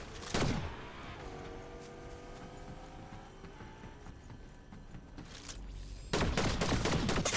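Gunfire from the Fortnite video game bursts out loudly at the start and again at the end, with a steady run of game sounds and tones filling the stretch between.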